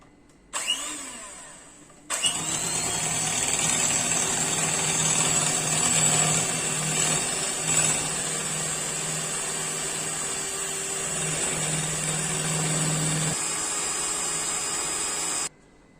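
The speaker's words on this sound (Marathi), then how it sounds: "आपण आता बिटरच्या साह्याने व्हिप क्रीम फेटून घेणार आहोत" An electric hand beater whips cream for homemade mulberry ice cream, a loud close motor whine that starts after a brief first burst and then runs steadily for about thirteen seconds before cutting off.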